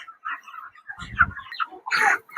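Chickens in a poultry farm shed cluck and squawk close by, a few short bursts of calls overlapping with scattered lower bumps between them.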